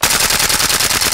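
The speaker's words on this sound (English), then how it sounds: "The M14 is really noisy and delivers a strong and fast blowback." A WE M14 gas blowback airsoft rifle fires a rapid, steady string of loud, sharp cracks with strong, fast bolt recoil, close up and with no talk.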